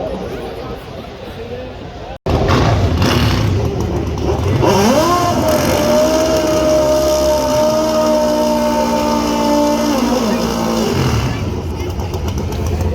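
A pro stock motorcycle at a Bristol drag race roars loudly after a sudden jump in noise, its engine note climbing and holding, then fading, under a constant background crowd.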